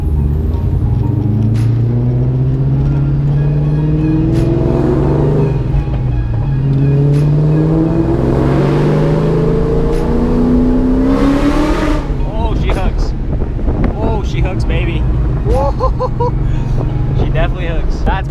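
A 2003 Ford Mustang Cobra on 15-inch drag wheels pulls hard in second gear, loud close engine rising in pitch as it accelerates, with a brief tire squeal.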